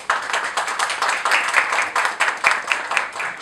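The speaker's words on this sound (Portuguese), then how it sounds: "Palmas, por favor." Audience applause at a Fomenta panel session in Valença, welcoming speaker Flávio Gueiros: a dense, steady patter of many hands clapping at moderate loudness for a few seconds.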